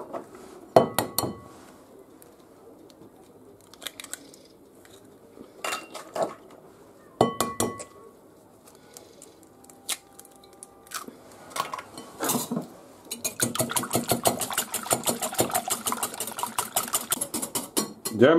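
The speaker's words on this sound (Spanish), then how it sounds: "lo que tenemos que hacer es batir los huevos" Eggs are whisked in a bowl for a Extremadura-style chard bake, the utensil clinking rapidly and steadily against the dish up close, with scattered clatter of dishes and cutlery before the continuous beating.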